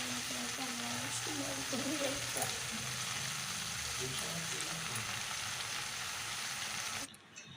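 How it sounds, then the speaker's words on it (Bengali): Drained chopped bottle gourd sizzles in a wok, a steady soft frying hiss under a faint voice that fades toward the end. "জলগুলো ছেঁকে নিয়ে লাউগুলো আমি সব কড়াই দিয়ে দিলাম"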